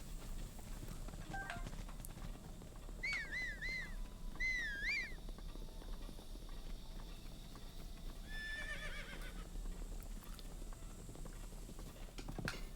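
A horse in The Legend of Zelda: Breath of the Wild gives two high, wavering whinnies and a later shorter one over steady hoof clip-clops and soft outdoor ambience.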